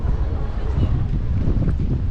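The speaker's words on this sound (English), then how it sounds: "It's starting to get a little bit windy." Wind gusts buffet the microphone with a low, continuous rumble, steady and fairly loud throughout, outdoors at the Manufaktura shopping area in Łódź.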